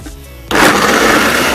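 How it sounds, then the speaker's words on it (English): A blender switches on abruptly after a low hum, whirring loud and close as it blends almonds and honey with water into almond milk, a dense steady roar. "We cover back the blender, and we press on."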